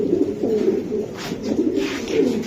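Racing pigeons coo in soft, low, throaty bursts, several overlapping calls close by, with no talking.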